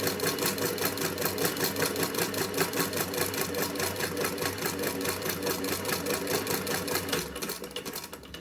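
A hand-cranked vintage sewing machine clanks in a fast, even rhythm, loud and close, running steadily for about seven seconds before the clatter drops off and a quieter mechanical whir remains.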